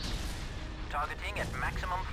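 Torpedoes and cannon fire in a space battle video game boom and crackle in quick bursts, overlapped by a voice speaking excitedly.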